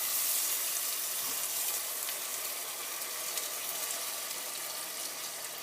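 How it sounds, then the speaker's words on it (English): Onions frying in a pan for a chicken tikka masala make a steady, soft sizzle that holds evenly throughout, heard alone without talk. "Okay, so now all the onions are in the pan."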